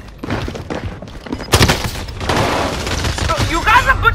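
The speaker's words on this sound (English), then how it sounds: "Taking heavy fire." Gunfire in a shooter video game, dense bursts of shots and heavy thumps building into a loud sustained barrage, with radio-style game voices mixed in.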